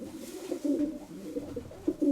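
A pigeon owned by a fancier coos close by in a loft, soft low throaty murmurs in short repeated phrases, with no talking.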